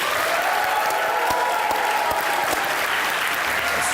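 A studio audience applauds a poet's entrance, dense and steady clapping from a crowd that holds at an even, fairly loud level for several seconds with no voices over it.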